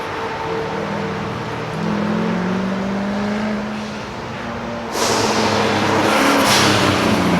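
Race cars of a street-car shootout track racing on a road course at Carlisle Ford Nationals, engines droning loud through the S-curves, revs rising and falling before a nearby car roars past with a sharp burst of noise.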